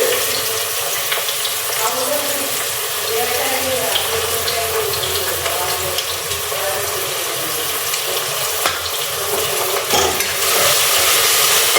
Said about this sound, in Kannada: ಮೀಡಿಯಮ್ ಫ್ಲೇಮ್ ಇಟ್ಕೊಂಡು ಫ್ರೈ ಮಾಡಿ.